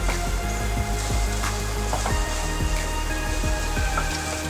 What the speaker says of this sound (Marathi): मीडियम गॅसवरती आता 2 मिनिटं परतून घेणार आहोत आपण